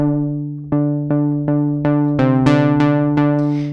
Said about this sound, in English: pulse width modulation, which actually varies the size, the width of the square wave